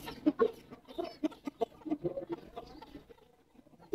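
Black baby chicks, freshly hatched, cheep and peep in a busy scatter of short high calls, close by and fairly clear, with soft clucking sounds mixed in.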